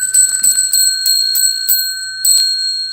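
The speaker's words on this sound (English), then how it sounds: "Let's ring the bell 10 times for you." A bell struck repeatedly in a series of bright, ringing strokes, each with a sustained metallic tone, loud and close with no talking.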